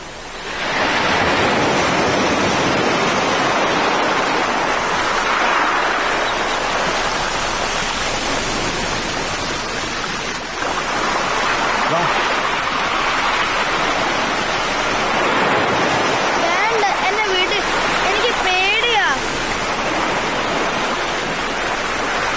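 Sea waves wash onto a beach in a steady, loud surging roar that swells and eases. Wind-like hiss runs throughout, and no voices are heard.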